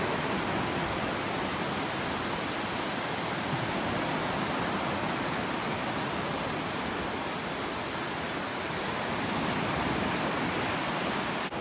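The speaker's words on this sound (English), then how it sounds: "What I come here for is the sound, and that's the sound of the waves" Steady broadband roar of ocean waves washing onto a beach at night, a continuous dense wash with no distinct breaks, fairly close and even in level throughout.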